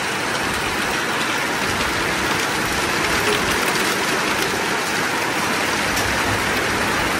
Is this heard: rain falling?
yes